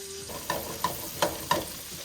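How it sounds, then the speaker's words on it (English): Beef pieces for stroganoff sizzle and brown in a hot pan, a steady frying hiss broken by four or five distinct scrapes and clinks as a spatula moves them, close and moderately loud. "I want to get this beef in so none of it over browns, so none of it overcooks"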